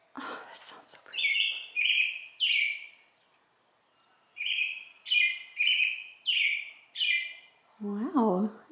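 Birds sing outdoors on a patio, giving bright repeated chirps in quick groups of three or four with short pauses between. A person's voice briefly joins at the end.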